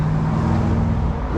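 Car driven by Jay Leno, a steady engine rumble with a low droning tone, close and continuous, a faint voice mixed in near the end.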